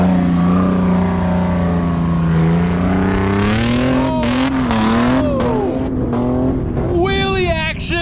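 A Hemi-powered Jeep TJ revs hard off-road, its engine note climbing and dipping in loud pulls close by. Shouting voices break in over the engine.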